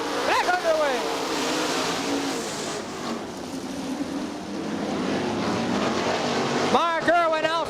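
Sprint cars race in an eight-lap dirt-track heat at Crystal Motor Speedway, a steady loud roar of engines throughout with rising and falling pitch as cars pass, while an announcer talks over the noise.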